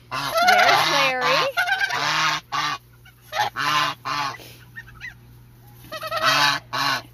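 Geese honk loudly and repeatedly in a ranch pen, close bursts of harsh calls broken by short pauses, with a steady low hum underneath.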